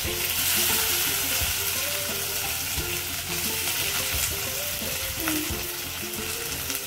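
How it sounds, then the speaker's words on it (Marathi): Green chilies and onion hitting hot oil for a Maharashtrian red amaranth (lal math) bhaji, a loud, dense, continuous sizzle with stirring clatter, close and alone without speech. "तेलामध्ये आता आपण मिरची घालूया, लगेचच कांदा घालूया"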